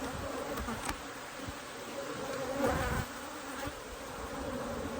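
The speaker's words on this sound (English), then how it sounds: "tons of bees" Dense, steady buzzing of many honey bees inside an open hive at close range, a continuous hum with small swells and no voices.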